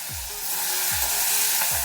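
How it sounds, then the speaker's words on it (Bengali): Tomato hits hot oil already tempered with dried red chilli, bay leaf and five-spice seeds. The sizzle is loud, close and continuous, and low scraping strokes from stirring recur roughly every second. "টমেটো দিয়ে একটু নাড়াচাড়া করে দিচ্ছি।"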